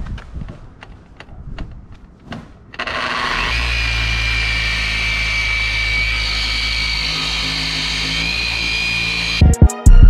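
Power polisher with a long-throw action buffing a repainted car bumper: a few clicks, then a loud steady motor drone starts and holds, close and continuous, ending in abrupt handling knocks.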